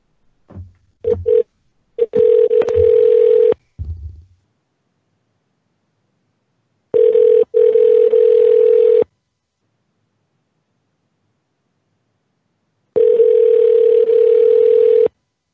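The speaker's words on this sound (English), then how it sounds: "That does not sound like a normal ringtone." Telephone line tones: a few short dial clicks and beeps, then long steady buzzing tone bursts separated by silent gaps, loud and alone without speech.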